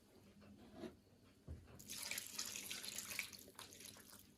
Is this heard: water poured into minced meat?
yes